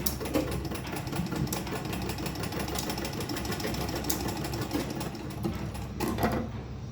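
A sewing machine stitches a handbag in a continuous fast, rattling run, steady and close throughout with no pauses.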